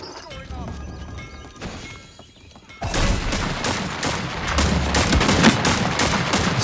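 Gunfire in the battle royale game Realm Royale Reforged comes in bursts of sharp rapid shots, loud and close, with a quieter stretch before the heavier firing.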